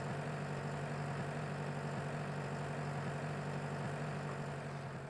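A Major tractor idles in a farming video game. Its engine gives a loud, steady, unbroken low rumble that holds constant throughout, with no talk over it.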